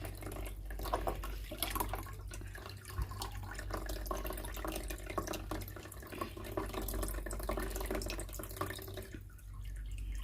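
Water drains steadily from a Bosch Maxx7 washing machine showing an E18 error into a basin, a continuous close splashing and trickling pour with a low hum underneath, lasting throughout with no talk.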